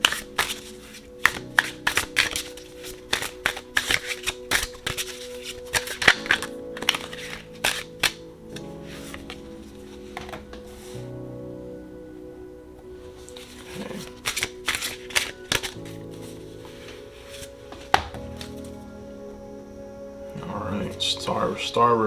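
Someone shuffles a Heaven and Earth tarot deck close by, with bursts of riffling and snapping cards between short pauses and soft handling noises.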